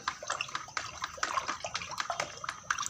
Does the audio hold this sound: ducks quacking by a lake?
no